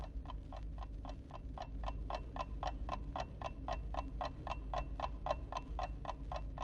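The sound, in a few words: old clock ticking loudly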